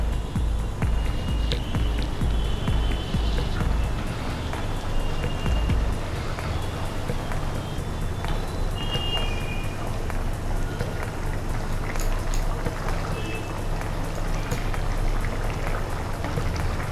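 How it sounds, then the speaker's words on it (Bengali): Chili broth (morich jhol) boiling in a pot, giving a steady close bubbling and rain-like crackle that runs evenly throughout with no talking. "ঝোল ফুটতে শুরু করে দিয়েছে।"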